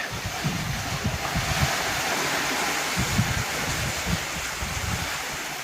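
Steady sea breeze and wave wash aboard a sailboat crossing the Pacific, a continuous broadband rush with soft low rumbling swells, no voices.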